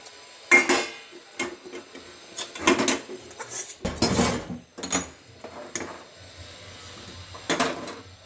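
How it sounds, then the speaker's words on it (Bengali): Cooked pea greens tipped from a pan into a metal pot, a series of sharp clanks and scraping knocks of metal cookware spaced irregularly against a quiet background. "এবার আমি শাকটাকে এই পাত্রে ঢেলে দিচ্ছি।"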